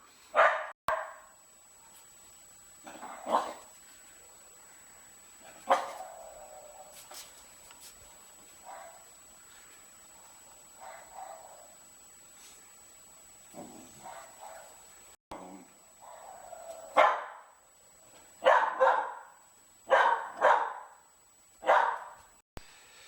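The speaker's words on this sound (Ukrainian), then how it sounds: "Наш пес сьогодні перше залаяв." A dog barks in scattered single woofs and short bursts, moderately close, with quiet gaps between them and a quicker run of barks near the end.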